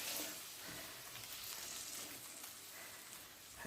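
Garlic prawns sizzle quietly in a pan left on residual heat after the fire is turned off, a soft, even, continuous fizzing hiss with no voices.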